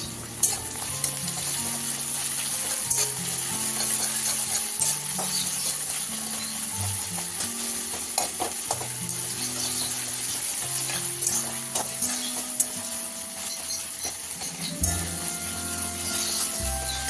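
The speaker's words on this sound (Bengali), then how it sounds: "এবার পেঁয়াজ কুচিগুলোকে ভালো করে ভেজে নিতে হবে।" Chopped onions fry in mustard oil in a wok, a steady close sizzle with occasional stirring scrapes and clinks as they are turned, lasting throughout without any talking.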